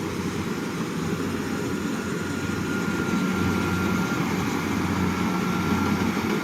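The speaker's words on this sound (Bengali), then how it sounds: "বিশাল স্পিডে চলছে মেশিন, কিছু কম নেই" A cutting machine runs at high speed in a field, giving a steady, loud mechanical drone with a low engine rumble throughout and no voices.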